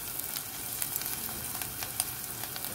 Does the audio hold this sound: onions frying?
yes